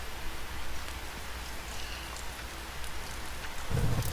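Steady rainfall in The Forest video game, a continuous soft hiss of drops without talk, with a low rumble swelling near the end.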